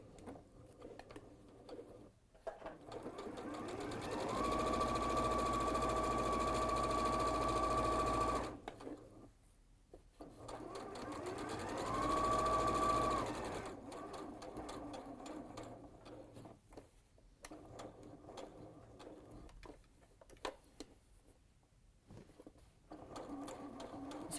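A domestic sewing machine runs in two sustained bursts with a steady whirring hum and rapid needle chatter as it sews a lock stitch, close and fairly loud, with quieter handling sounds between.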